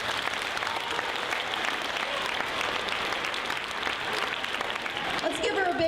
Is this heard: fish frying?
no